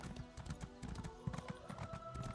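Horse hooves gallop in The Elder Scrolls Online, a quick, rhythmic clip-clop of repeated hoofbeats at close range, steady and moderately loud against a soft game background.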